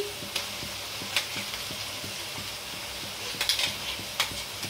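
Onions, green chillies and ginger garlic paste fry in a pan with a steady sizzle, stirred at intervals, the spoon scraping in regular sharp knocks over the hiss.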